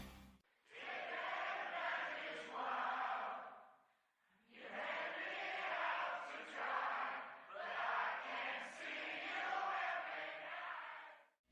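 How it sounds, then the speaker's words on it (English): A game crowd in Guitar Hero World Tour sings along in a faint, blended chorus of voices, in two sustained stretches split by a short pause. "the crowd will also sometimes sing along to the song at certain parts"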